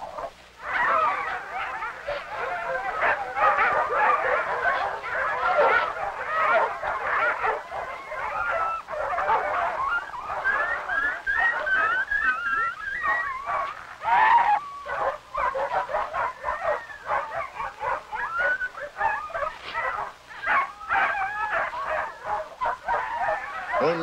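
Sled dogs fighting in outport Newfoundland, a continuous close chorus of snarling, yelping, whimpering and barking that churns on without pause for over twenty seconds.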